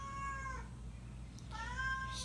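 A house cat meows twice indoors, two drawn-out, rising cries separated by a short pause, fairly close over a low room hum.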